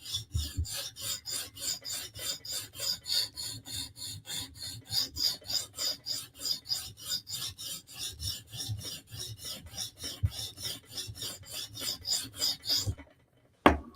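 A knife blade is drawn across a sharpening stone, close rhythmic scraping strokes repeating steadily at roughly two per second before stopping abruptly near the end.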